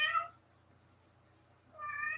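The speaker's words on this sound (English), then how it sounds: "My cat hears daddy." A house cat meows twice, a short bright call at the start and another after a quiet pause, close to the microphone with faint background hum.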